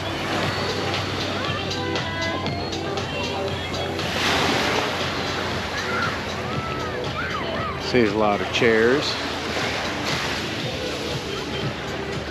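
Ocean waves wash onto Paradise Beach in Cozumel, a steady surf hiss mixed with wind noise on the microphone, while people talk nearby.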